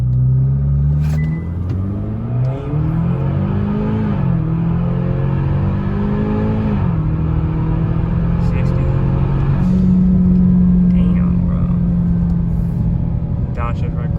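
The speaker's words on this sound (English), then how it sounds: "So you can do an actual launch 0 to 60" A Kia Stinger 2.0 tuned with a Race Chip launches hard from 0 to 60. The engine rumbles loudly up through rising rev sweeps, and each gear shift breaks the climb before the next pull, with sustained close-up cabin noise throughout.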